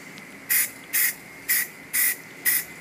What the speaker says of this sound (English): It makes, honestly, the spraying of the actual rifle a lot easier.